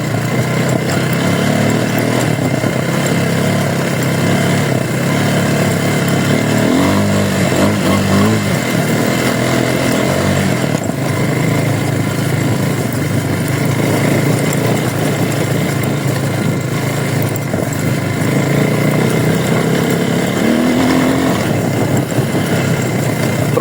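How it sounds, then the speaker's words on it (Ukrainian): A Forte Cross 250 motorcycle rides across a field, its engine droning loud and continuous with slight rises in pitch as it accelerates over rough ground, with wind rush throughout. "Зараз покажу ще, як він їде по полі."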